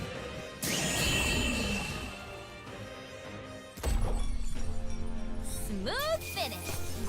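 A glassy shattering crash from the Metaphor: ReFantazio video game, loud and bright, followed by a heavy impact and swooping effects under game voices and music.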